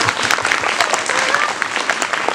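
An indoor audience at an event about kites claps together in a dense, lively burst of applause, loud and close, lasting a couple of seconds with no speech over it.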